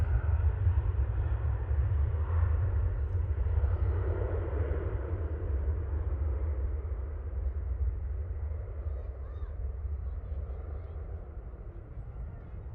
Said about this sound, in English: that one's taking off on runway 2